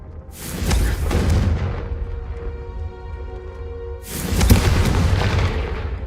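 Two Confringo spell blasts in the wizarding game Hogwarts Legacy, each a deep booming explosion with a rumbling tail, the second arriving a few seconds after the first fades, loud and close with no voices.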